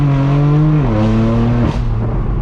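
A straight-piped BMW M4 F82 drones loudly and steadily from close by, its harmonic exhaust note dropping in pitch as the revs settle, with no voices over it.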